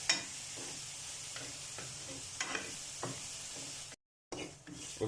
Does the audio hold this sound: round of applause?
no